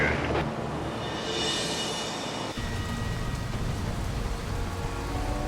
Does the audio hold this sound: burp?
no